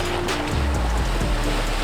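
A vehicle drives through the Krossá river in Þórsmörk, Iceland, with loud, continuous rushing and splashing water close by and a low engine rumble underneath, and no voices.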